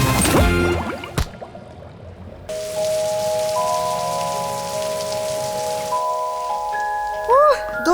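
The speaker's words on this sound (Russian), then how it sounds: "Дождик." Light rain falls in Santa Catarina, Brazil, a soft patter of drops that comes through for several seconds between bursts of music and other sounds.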